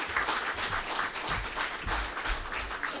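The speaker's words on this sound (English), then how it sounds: "give a big round of applause for Dr. Michael New" Applause from a breakfast club audience welcoming a guest speaker, dense steady clapping at moderate loudness for a few seconds.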